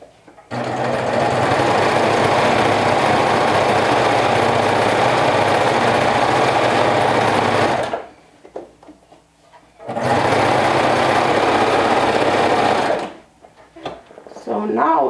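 Sewing machine top stitching a seam allowance on fabric leggings, running loud and steady in two long continuous bursts separated by a short pause, with light handling noises between runs.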